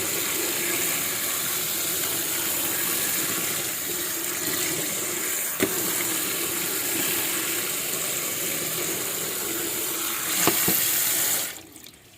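Running tap water rinses sap off freshly cut caladium tubers, a steady loud splashing gush with faint knocks before the flow cuts off at the end; no voices.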